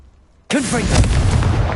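A spell explosion from the Hogwarts Legacy video game bursts in suddenly after near silence, a loud booming blast with a whooshing sweep that rumbles on and sustains through to the end.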